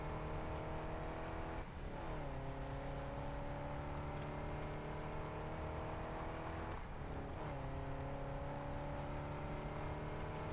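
Vehicle engine in Satisfactory droning steadily while driving through fog, with two brief gear shifts where the pitch drops and climbs again, loud and continuous throughout.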